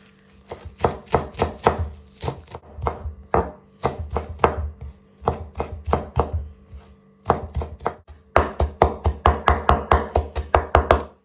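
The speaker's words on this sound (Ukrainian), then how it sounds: "Беремо зелень 30 грам." Knife rapidly chopping about 30 grams of fresh mixed herbs on a board, sharp rhythmic taps in quick bursts separated by short pauses, close and clear with no talking.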